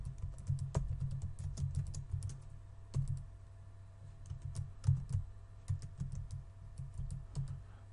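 File name being typed on a computer keyboard: a quiet, irregular run of close key clicks with short pauses, steady throughout and without any talk.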